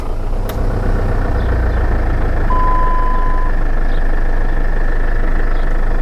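A car engine cranks briefly, then settles into a steady, even idle right after an oil change, running alone without talk.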